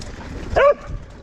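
A single short dog yip or bark on a hiking trail, heard close by against quiet outdoor background.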